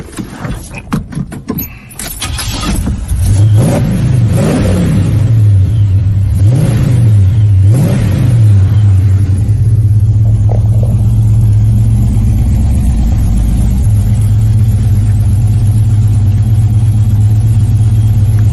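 A muscle car's engine cranks with a few clicks, fires and settles into a loud, close, rumbling idle, with several rising revs in the first half, then holds a steady heavy drone.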